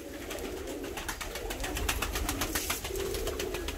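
Fancy pigeons cooing in a crowded coop, a dense, steady chorus of overlapping coos and rustling, close and continuous with no talking.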